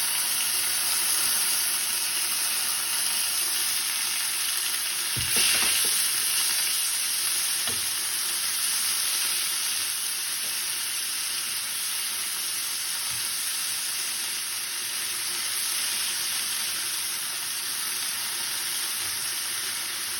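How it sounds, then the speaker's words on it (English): Steady sizzling of onions frying in a pan, a continuous bright hiss with a few stirring clunks, close and fairly loud, no talking. "Oh, I love the sound of onions frying in the pan."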